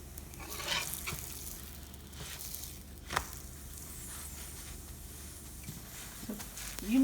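Chapati cooking with butter in a hot pan gives a soft, faint sizzle with a few light scraping and pressing clicks, quiet and close, with no talking.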